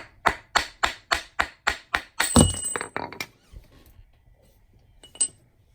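Sharp metal taps knock a wedge back out of a quarter coin ring being stretched into a size 13, about eight evenly spaced strikes in a quick steady rhythm, then a scrape and a lone later clink.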